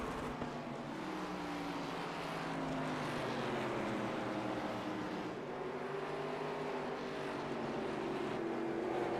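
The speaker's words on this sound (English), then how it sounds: "listen to those engines roar as they come by" Simulated NASCAR stock car engines in iRacing at Phoenix Raceway droning and whining past, with overlapping pitch sweeps as cars approach and pass, a continuous moderate roar without voices.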